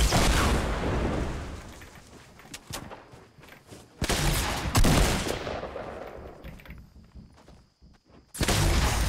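Shotgun fire in a video game battle against an unshielded opponent, heavy loud blasts in bursts at the start, around four to five seconds and at the end, with quieter mechanical clatter and footsteps between.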